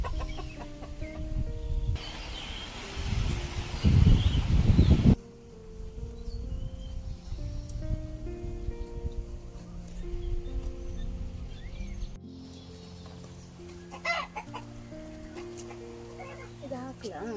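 Backyard chickens clucking softly in intermittent bursts around a home kitchen garden, moderately close, interleaved with people chatting nearby and a brief loud burst of rushing noise early on.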